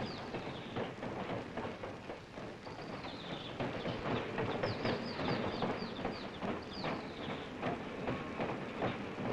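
A large diesel train engine pulls in, with a steady, dense rumble of machinery and rolling wheels throughout and sharp high chirps and squeals rising above it.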